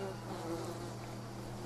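Bees buzz steadily in a Green Hell jungle scene, a continuous, droning hum at moderate loudness with no breaks across the short stretch.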